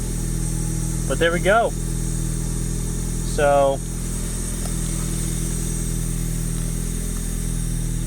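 A Mazda Miata fitted with a different exhaust idles steadily with a low, even drone, while someone speaks briefly over it.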